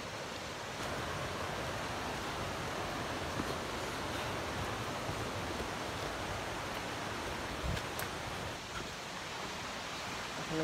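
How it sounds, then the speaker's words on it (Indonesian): A waterfall along a mountain trail near Desa Belangian and Pos 5 Kalimatak gives off a steady, loud, full-bodied rush of falling water. It holds constant without pause and no voices are heard. "Kita ada air terjun lagi."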